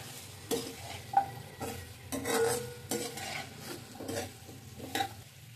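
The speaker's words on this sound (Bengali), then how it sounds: "মূলা আর মাংসগুলোকে ঠিক মতো সুন্দর করে কষিয়ে নিব" Pork and radish being stirred and fried in oil in a pot: a steady sizzle runs throughout while a utensil scrapes and stirs in irregular strokes, with a few sharp metallic clinks against the pan; no talking.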